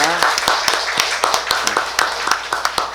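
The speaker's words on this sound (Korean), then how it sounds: "앞으로 행복하고 복된 가정 되도록 박수하겠습니다" Church congregation applauding during a Sunday worship service, with scattered sharp claps in an uneven, sparse rhythm over a low room murmur, moderately close.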